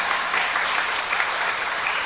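A church congregation gives a pastor a loud, welcoming round of applause, steady dense clapping from a large crowd filling the hall with no voices on top.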